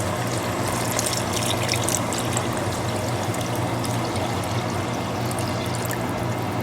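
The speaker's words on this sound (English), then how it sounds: "And this is 4 cups of beef broth that was added." Beef broth pours steadily into a soup pot for hamburger soup, a soft, continuous liquid splashing and trickling with no talking.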